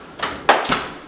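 Near a kitchen oven, a door swings shut with a short whoosh followed by a couple of quick, close thuds from the latch and frame.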